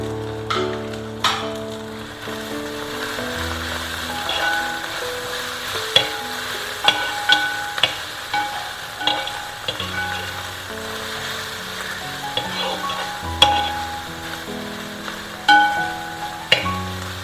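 Ginger and green chillies frying gently in oil over a low flame for Kerala ginger pickle, a soft continuous sizzle up close with intermittent clatters of a spoon stirring against the pan, no talking.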